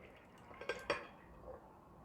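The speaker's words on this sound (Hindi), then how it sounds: "मैं यहाँ पर ले ली हूँ एक कुकर में हम चने के दाल को डाल देते हैं।" Soaked chana dal is tipped into a pressure cooker in a home kitchen, producing a couple of quick clinks and a soft wet tumble at close range, with faint clatter of the cooker and utensils afterward. Nobody speaks.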